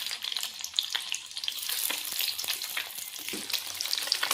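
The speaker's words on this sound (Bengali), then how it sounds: "আর অল্প সরিষার তেল দিয়ে দিব, ভেজে নিব," Eggs fry in mustard oil in a pan, a close, continuous crackling sizzle with sharp pops scattered throughout and no voices.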